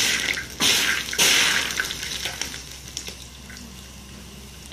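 Water dumped onto a small grease fire erupts in a loud burst of hissing and spattering in two quick surges, then fades into crackling, fizzing sputters that trail off.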